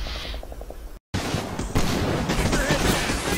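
Gunfire in the WWII strategy game Combat Mission: Battle for Normandy, with a short rattling burst, a brief cut, then a loud, dense stretch of overlapping shots and blasts continuing to the end.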